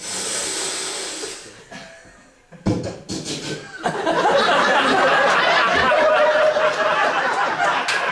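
A voice imitates a long, forceful sucking inhale on an unlit joint: a brief hiss, a short pause, then a loud, sustained breathy rush that runs to the end.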